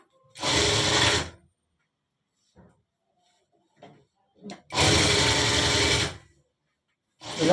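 A sewing machine stitches the folded seam of a full-sleeve shirt in two steady whirring runs of about a second each. Faint handling clicks fall between them.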